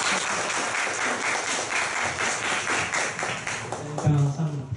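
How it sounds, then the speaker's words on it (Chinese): Audience at a Taichung self-introduction meetup clapping, a dense continuous patter of many hands at moderate distance for several seconds, a voice briefly emerging at the end. "各位朋友，掌声欢迎"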